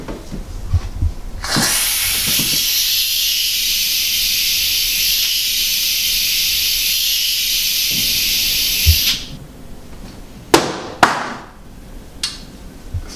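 An empty whipped cream can gives a long, loud pressurized hiss for about seven seconds, close by, then stops, followed by a few sharp sputtering bursts and pops.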